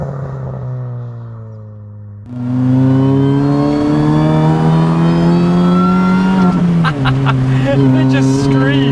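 A supercharged Mini Cooper S R53 engine revs hard and climbs in pitch, a loud rising whine with harmonic overtones, dipping briefly with a gear change before pulling again.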